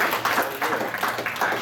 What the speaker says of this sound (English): give a round of applause to Riley, guys